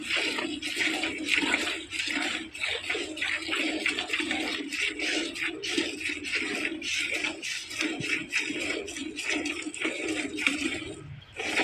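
Water splashing and pouring while cows are washed, a busy, continuous wet sloshing with frequent bursts close by and no clear talk over it.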